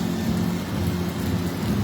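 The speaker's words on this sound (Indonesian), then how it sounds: "hujan turun dari langit disertai dengan gemuruh suara guntur" Heavy rain pours steadily during a downpour in Sinjai regency, Indonesia, a dense constant wash with low rumbling thunder underneath throughout, no voices.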